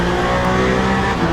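Onboard the number 93 Toyota race car in Le Mans Ultimate at the 8 Hours of Bahrain, a loud, steady engine drone holds at high revs, close and continuous.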